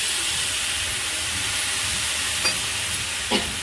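Water hits a hot pan and sizzles into a steady, loud hiss, with a couple of light clinks near the end.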